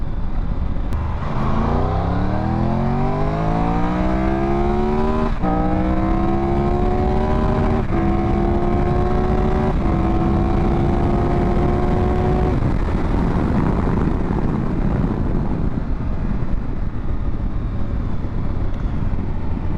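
A 2022 Triumph Tiger 1200 GT Explorer adventure touring motorcycle accelerates hard uphill at high mountain elevation, its engine climbing through several gear shifts with rising pitch, loud and close over steady wind rush, then easing off.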